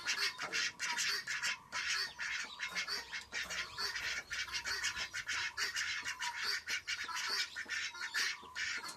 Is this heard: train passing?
no